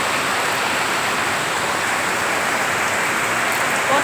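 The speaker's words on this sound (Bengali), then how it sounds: "তো প্রচণ্ড বৃষ্টি হচ্ছে" Heavy rain pours down outdoors as a steady, loud, unbroken hiss of water hitting surfaces all around, with no voices.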